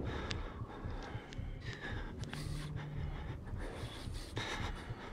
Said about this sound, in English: I hear him breathing all the time